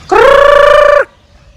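An Orpington chicken on a farm gives one loud, close, drawn-out call lasting about a second, then falls silent.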